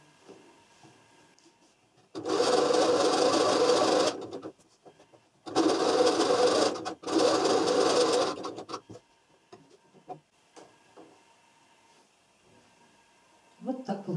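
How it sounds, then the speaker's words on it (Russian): Sewing machine stitching with elastic thread, running in three loud close bursts of rapid whirring and clatter separated by pauses, with quiet handling noises in between. "Обычно машинка шепчет, а вот когда резинка, то вот такой звук получается."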